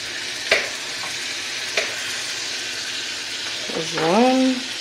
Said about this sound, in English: it's been cooking for about 6 minutes, so we should probably go ahead and flip them